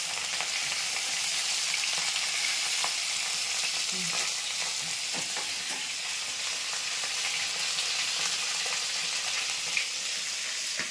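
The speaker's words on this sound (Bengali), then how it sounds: "মাছ ভাজা হয়ে গেছে ওখানে কিছু" Pieces of fish fry in a wok with a dense, steady sizzle and crackle that holds level throughout, broken by occasional faint clicks of stirring.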